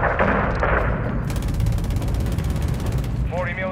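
Mortar strike explosions in a military video game arrive as a loud, dense burst of rapid, rattling blasts lasting a couple of seconds over steady battle noise, followed by a brief voice.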